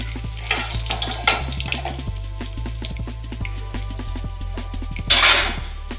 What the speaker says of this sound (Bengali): এভাবে আমি সমস্ত রাভা চিকেনগুলো আমি ফ্রাই করে নেব।